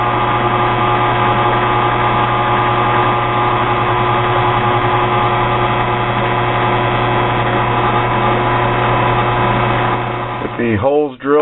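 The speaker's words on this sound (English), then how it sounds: "Now, the only way you're going to get through this is with a carbide bit, and you've got to go slow" A drill runs steadily as a carbide bit slowly bores through a hardened steel planer blade for a knife, a loud continuous motor drone with mains-like hum that winds down at the very end.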